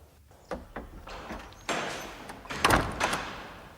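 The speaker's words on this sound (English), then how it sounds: "Close the door, Sexton." A door is handled nearby and pushed shut, with a few soft bumps followed by a firmer closing thud and a rattle in a quiet indoor room.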